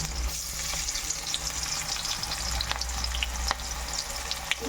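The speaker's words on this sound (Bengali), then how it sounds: "এই যে কাঁচা পেঁয়াজগুলো দিচ্ছে" Raw onions fry in a pan for mutton curry, a dense close sizzle with scattered crackles and occasional stirring scrapes, steady throughout with no voices.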